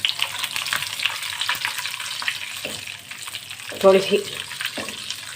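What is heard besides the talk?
sautéing whole red chilies, nigella, fenugreek and mustard seeds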